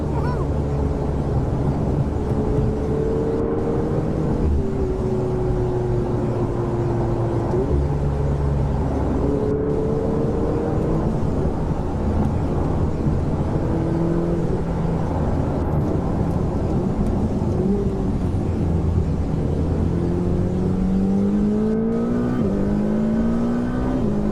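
Ferrari 488 GTB engine heard from inside the car, repeatedly revving and accelerating through rising gear pulls with sharp shifts, loud and continuous with faint talk underneath.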